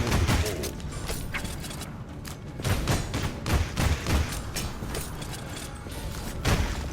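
An enemy shooting at the player in Hellsweeper VR on PlayStation VR2: rapid, repeated sharp shots over a steady mechanical clatter, close and fairly loud, with no voices.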